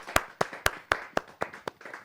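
An audience at a Hindi poetry gathering claps, a sparse, slightly uneven run of about eight sharp hand claps heard close and alone over a little more than two seconds.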